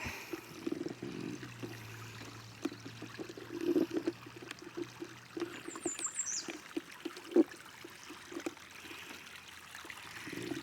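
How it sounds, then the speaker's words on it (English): Water trickling and flowing down a newly dug stream channel across a property, a continuous soft burble with occasional splashy surges, fairly faint and steady, no talking. "We made a river, or a creek, or a stream."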